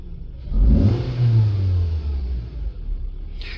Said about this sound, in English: we're going to step on the throttle quickly. Just do some snap throttle